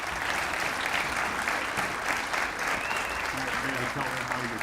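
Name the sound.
audience applause at awards banquet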